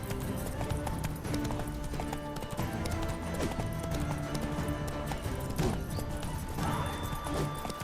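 Horse hooves clip-clop steadily in The Witcher 3 as the mount moves, with a continuous rhythm of hoofbeats under busy game ambience and occasional clashing effects.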